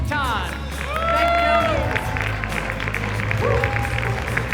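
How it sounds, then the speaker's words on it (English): Audience at a teen awards ceremony applauding the presenters, a steady crowd wash of clapping and cheering throughout, with an amplified voice and music tones sounding over it. "let's keep that applause going for Zachary, Barack, and Jatan"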